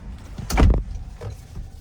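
A 2025 Toyota Corolla Cross L door thuds shut close up as the driver climbs in, one heavy slam followed by faint rustling in the cabin.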